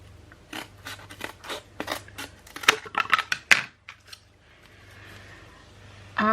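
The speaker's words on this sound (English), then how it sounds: "So I need 2, so I'm just going to cut this in half." A bar of homemade Christmas soap being cut in half, giving a series of close crisp cutting and crunching sounds with sharp clicks, then a softer scraping stretch near the end.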